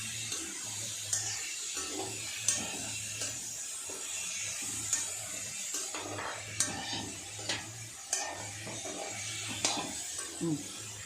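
Chili pieces frying in a pan while being stirred, a quiet steady sizzle broken by repeated light scrapes and clinks of a spoon against the pan at irregular intervals.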